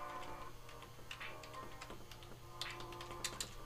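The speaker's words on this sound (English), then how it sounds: "all we gotta do is type in the pi-hole's address" Quick keystrokes on a computer keyboard as an address is entered, light irregular clicks over a steady low hum, close and fairly quiet with no voices.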